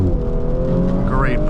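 A 2021 Audi S5 3.0T Cabriolet kicks down and accelerates, its engine note climbing in a loud, close rising drone heard from inside the car.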